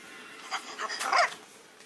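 A husky pup gives a brief, faint bark-like yip that rises near the middle of a quiet stretch, with soft whimpering tones around it and no talk.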